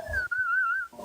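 A person whistles a single sustained, slightly wavering note to call a pet reptile, close and moderately loud, lasting under a second with faint breath noise around it.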